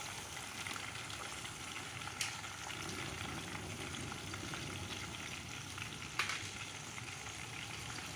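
Ginger, garlic and chili paste fries in a pan for dhaba-style chana dal, giving a soft, continuous sizzle with a couple of sharp clicks from the pan.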